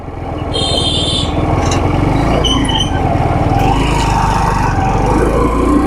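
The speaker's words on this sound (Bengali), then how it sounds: "এবং সামনে দেখেন একটা ইজি বাইক যাচ্ছে।" An easy bike, a battery-powered rickshaw, travels along a broken village road, its motor and rattling body a steady close rumble, with birds chirping in the background.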